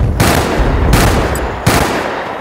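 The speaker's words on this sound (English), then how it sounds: "you'll also boost the sound of explosions or gunshots" Three loud, sharp bursts of gunfire from a first-person shooter game ring out at regular intervals, each a broad blast with a decaying tail, heard close and alone.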